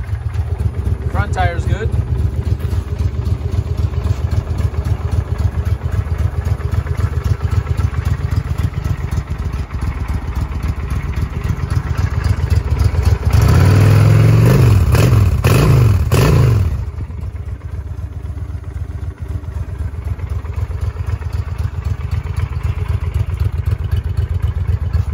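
A 2008 Honda Shadow 750 motorcycle idles with a loud, steady low-pitched thump, briefly revving up midway before settling back to idle, while someone talks over it.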